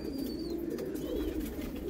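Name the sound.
pigeons cooing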